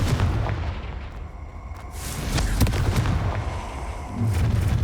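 Hogwarts Legacy's Confringo blasting spell sets off several booming explosions during a fight, loud and close, rising again near the end.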